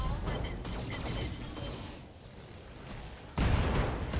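Mech weapons firing during a BattleTech video game battle, a dense, rattling barrage of shots and mechanical clanks that dips briefly, then surges again with a louder impact.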